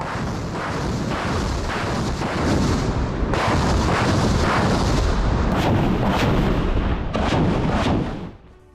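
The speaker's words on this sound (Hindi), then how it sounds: "मिसाइल और आर्टिलरी हमले से दहला है सेवर्स्क" Missile and artillery strikes pound Siversk in Ukraine in a loud, continuous barrage. Dense rumbling blasts overlap, with sharper bursts near the end before the sound cuts off.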